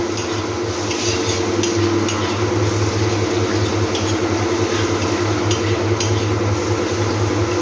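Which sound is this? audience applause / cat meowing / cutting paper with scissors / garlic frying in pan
garlic frying in pan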